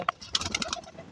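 Short bird calls from a pigeon, a few soft coos and chirps in quick succession against quiet outdoor background, fairly close.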